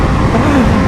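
A BMW HP4 motorcycle fitted with an SC Project exhaust during a top-speed run gives a loud, steady engine roar mixed with heavy rushing wind, lasting under a second.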